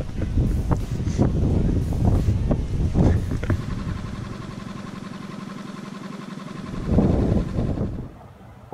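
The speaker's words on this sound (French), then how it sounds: "Trop de vent." Strong gusts of wind blow across an open marsh, a loud rumbling buffet on the microphone that rises and falls, with distant voices calling now and then and another heavy gust near the end.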